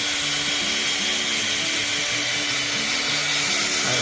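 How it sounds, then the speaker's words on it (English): A power polisher buffs a car headlight lens after sanding, giving a steady, continuous whine with fluctuating low tones throughout, loud and close, with no talking. "now we're working on polishing it"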